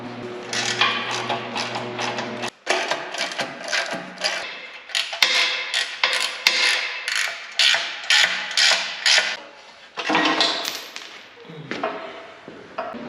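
Tools working to remove the front bumper from a 4x4 truck chassis, with a steady run of close metallic clicks, ratcheting and clanks, then sharper knocks and bangs toward the end, and no talk.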